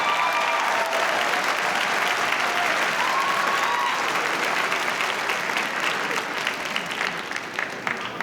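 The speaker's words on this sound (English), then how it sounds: "Had my students cheer that loud" A graduation crowd at a college commencement claps and cheers, a loud, continuous roar of applause with scattered voices and whoops that thins slightly toward the end.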